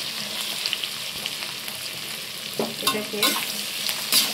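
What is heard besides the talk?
stirring garlic, ginger and onion frying in a pan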